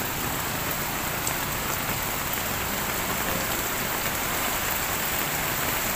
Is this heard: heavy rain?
yes